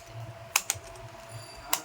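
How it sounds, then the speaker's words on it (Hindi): A laptop keyboard is prised out of its chassis during servicing, giving a few faint, sharp plastic clicks and snaps spaced apart over a quiet background. "इसी गैप के थ्रू हम इस कीबोर्ड को इजीली बाहर आउट करेंगे"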